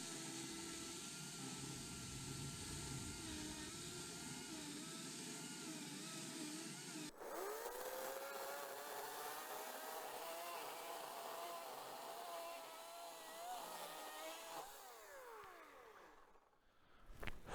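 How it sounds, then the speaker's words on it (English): An electric chainsaw cutting through a fallen log across a forest trail, a steady high motor whine that shifts pitch as the blade bites, then winds down near the end. "I've got my trusty electric chainsaw"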